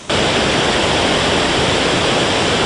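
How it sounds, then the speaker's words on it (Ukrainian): The Dzhuryn waterfall on the Dzhuryn river in Ukraine, also called the Nyrkiv or Chervonohorod waterfall, roars as a loud, steady broadband rush that starts abruptly and holds constant with no speech. "справжньою перлиною урочища є Джуринський або як його ще називають Нирківський та Червоногородський водоспад"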